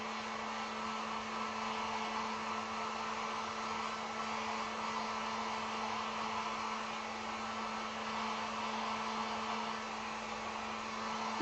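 A heat tool runs steadily to dry acrylic paint on a painted wood sign, an even, unbroken blowing roar with a faint fixed hum, heard alone with no talking throughout.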